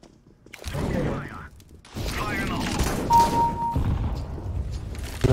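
In CS:GO a grenade is thrown and explodes with a heavy, broad burst. A second rumbling blast follows, with mechanical clatter around it.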